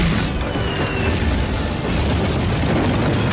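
An air-launched missile exploding in a war film, heard as a sustained, loud, rumbling blast with crashing debris that stays dense and heavy throughout, with no speech over it.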